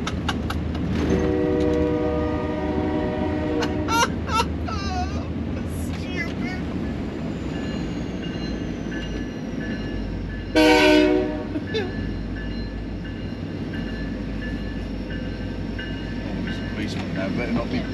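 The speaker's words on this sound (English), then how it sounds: "Oh my god, you could hear the train anywhere" A freight train rolls past with a loud, sustained rumble, its horn sounding in several blasts near the start and again in a strong burst around the middle, while people talk over the noise.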